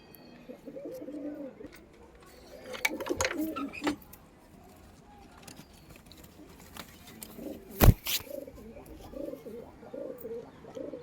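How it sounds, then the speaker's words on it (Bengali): Male tournament racing pigeons cooing in soft, repeated throaty bursts, with other birds chirping nearby and someone talking over them. "এই যে আরেকটা পায়রা, নর পায়রা আমার।"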